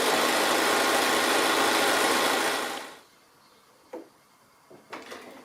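A home sewing machine runs steadily, stitching a quilted table runner in one loud continuous hum for about three seconds, then stops; a few faint clicks and small handling sounds follow in the quiet.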